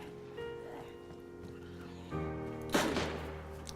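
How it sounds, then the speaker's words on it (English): A single gunshot aimed at a zombie in the video game DayZ cracks out sharply and briefly over a quiet backdrop of steady tonal in-game ambience. "Oh, I heard that gunshot."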